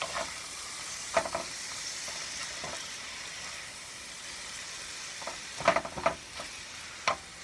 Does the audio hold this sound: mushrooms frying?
yes